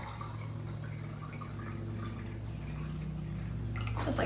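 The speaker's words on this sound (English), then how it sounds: "This one looks like it needs a tiny bit more water. I'm gonna just fill it up to there." Water pours steadily into a kombucha jar, a continuous close trickle with faint dripping that swells slightly near the end.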